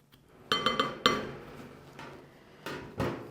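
A utensil clinks and scrapes against a bowl while graham cracker crumbs and sugar are stirred together, a few sharp taps spaced irregularly with quiet scraping between, close and fairly soft.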